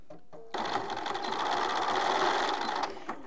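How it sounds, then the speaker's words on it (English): A sewing machine stitches the two ends of a rain cover for lights together, a fast steady whir that starts abruptly after a short pause and runs for about two and a half seconds at close range. "sew it together, sew the two ends together very carefully so"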